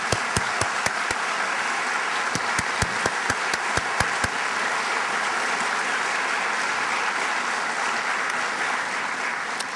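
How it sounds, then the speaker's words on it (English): A university convocation audience applauds new staff members, a long even wash of clapping with a few sharp, close individual claps standing out during the first half. "our applause. All new staff members."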